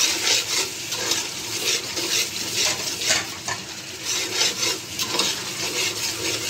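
A masala with beaten curd is sautéed in a pan, rhythmic stirring scrapes over a constant loud sizzle, with no talking.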